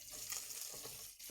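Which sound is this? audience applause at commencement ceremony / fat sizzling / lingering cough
fat sizzling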